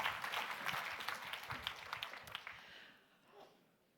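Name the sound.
audience applause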